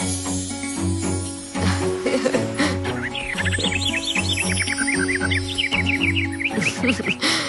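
Satrangi, a cartoon bird in a Hindi Little Singham episode, chirps in quick high bright bursts over a humming musical background, the chirps thickening into a lively run in the second half.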